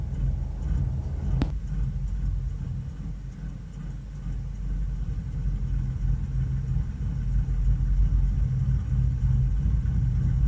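An old Dodge 318 V8, long left sitting and running on stale gas in cold weather, rumbles steadily at a low idle nearby, a single sharp knock near the start, the drone swelling slightly toward the end.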